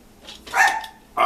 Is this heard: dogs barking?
yes